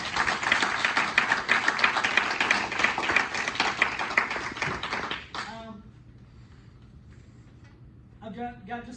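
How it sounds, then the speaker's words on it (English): A school board meeting audience claps for student athletes in a dense, even burst lasting about five seconds, then stops abruptly; faint room noise follows and a voice speaks near the end. "so please help me give a round of applause"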